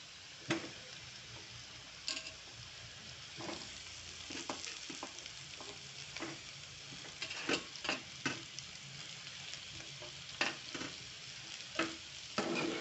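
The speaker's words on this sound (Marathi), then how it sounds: "चांगलं मिक्स करून घेते आणि याच्यात मी आता आपलं बटाटा टाकते" Potatoes frying and sizzling in a pan for an Indian dry potato dish, with a steady crackle under repeated scraping clicks of a spoon stirring, fairly close and moderate in level, with no talking.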